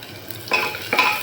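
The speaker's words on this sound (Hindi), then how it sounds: "प्याज मैंने आज लंबे लंबे कर दिया और करते हैं प्याज फ्राई।" Long-sliced onions frying in a pan with cumin and coriander, a sizzling hiss broken by two quick stirring scrapes, close and clear.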